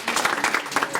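Brief burst of applause from a gathered audience at a college induction, a second of dense clapping at moderate loudness.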